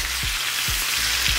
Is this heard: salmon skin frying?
yes